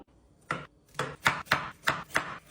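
Carrots being chopped on a board for carrot cake, six or seven crisp knife strokes in an uneven rhythm, close and clear with no talk.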